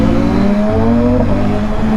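Loud, steady engine drone from a Kawasaki ZX6r superbike revving nearby, its pitch holding and shifting slightly in traffic, dominating the whole stretch without talk.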